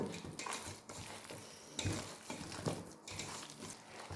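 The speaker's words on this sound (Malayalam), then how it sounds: "നമുക്കിത് കംപ്ലീറ്റ് ഒന്ന് മിക്സ് ചെയ്തെടുക്കാം." Chicken pieces being stirred and mixed by hand in a bowl of marinade made with lemon juice and egg, giving soft, irregular wet scraping and clinking sounds, close and quiet.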